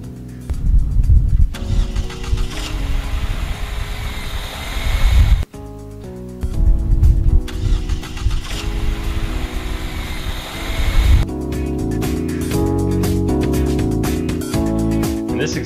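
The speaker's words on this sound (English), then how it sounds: "we're going to analyze the vibration data from the car engine." A car engine runs loud and steady, with its tone shifting between sections and a brief cut partway through, and no talk heard.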